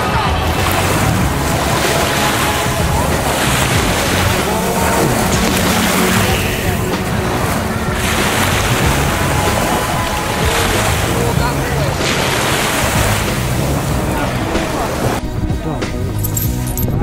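Sea waves rolling onto a white-sand beach in Thailand, a loud, continuous roar of surf with rising and falling swells and heavy wind buffeting the microphone.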